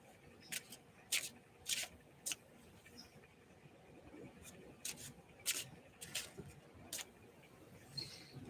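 Tarot deck given a quick shuffle, a run of crisp papery riffles and flicks that come in short uneven bursts over a soft room background, close and fairly quiet, with no voices.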